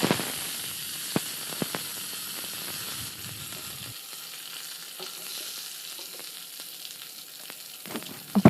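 Mustard seeds, urad dal and curry leaves sizzle in hot oil, a bright steady hiss with scattered sharp pops and crackles.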